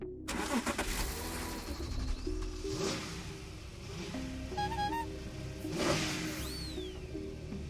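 A car engine in the point-and-click video game The Darkside Detective turns over and revs up. The steady mechanical hum comes with a few short swells, mixed with quirky game effects and tones.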